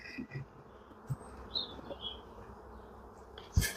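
Honeybees from a freshly hived swarm hum faintly and steadily close by, with a few brief nearer buzzes passing, then a sharp knock or rustle near the end.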